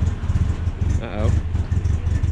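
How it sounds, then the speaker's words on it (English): A small flathead engine chugs steadily and close by in an even low rhythm, with a brief voice cutting in partway through. "Little flathead motor."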